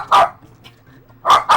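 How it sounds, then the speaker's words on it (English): A cartoon dog in a SpongeBob SquarePants game gives a sharp bark, pauses briefly, then lets out two more quick barks close by. "So you're gonna bark at my dog"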